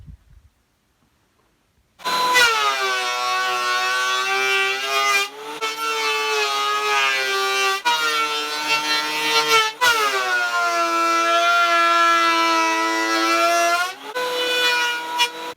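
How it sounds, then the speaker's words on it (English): Wood planer cutting log slices for a live-edge wooden hat: after a quiet start, a loud, steady tonal whine with a rough cutting edge runs through several passes, each broken by brief dips, with no talk. "Now we can send this through the planer."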